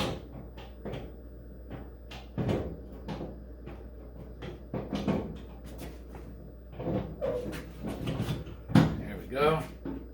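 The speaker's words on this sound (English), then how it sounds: "We'll slide it in this door mechanism here." On a 1949 Chevy 3100, a door handle is slid into the door mechanism, producing a series of close, sharp metallic clicks and knocks spread through the clip, while someone talks alongside the work.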